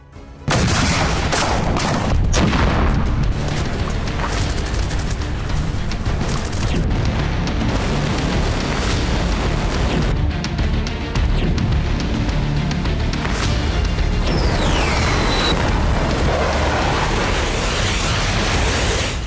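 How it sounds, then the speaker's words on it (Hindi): War footage of aerial bombing in Ukraine, with loud, dense explosions and booms in rapid succession over about twenty seconds, plus a rising whistle near the end. No one speaks. "हवा से ताबड़तोड़ बमबारी,"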